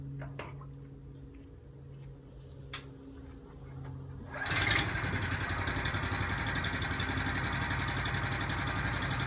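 Keene Blaster water pump with a PHP500 engine starts after a quiet stretch with faint ticks and clicks, then runs steadily, a loud continuous buzzing drone that carries on to the end.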